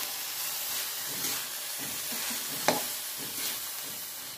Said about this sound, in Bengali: এটাকে আমি নেড়ে চেড়ে তারপরে ঢাকা দিয়ে দেবো সিদ্ধ করার জন্য